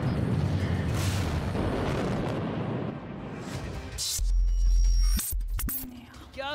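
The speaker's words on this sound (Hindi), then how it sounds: "जब मिसाइल पुल से टकराती है तो कमांड सेंटर में धमाका" A loud, broad blast rolls out over a couple of seconds, followed by a deep rumbling boom and crackling debris, as a missile strikes a bridge in the Russia-Ukraine war.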